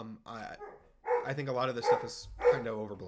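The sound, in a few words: dog barking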